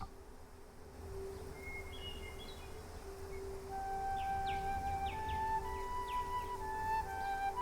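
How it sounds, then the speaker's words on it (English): A lady's flute in the Child of Light video game plays a soft, breathy melody of sustained tones and short rising notes over a faint hiss, gentle and steady. "The lady's flute. Let us see what it will do, fingers crossed."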